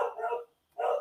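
A dog barks twice in quick succession, sharp, close and fairly loud, with a brief silent gap between the barks.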